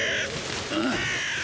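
A cartoon mockingbird imitates a raven's call: a loud, harsh, drawn-out croaking caw, close and alone.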